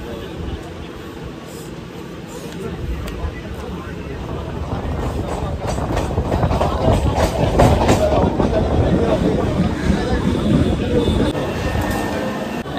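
A local train rumbles through Barrackpore railway station with a steady, heavy roar and rhythmic clatter of wheels that builds slightly louder midway and holds for several seconds.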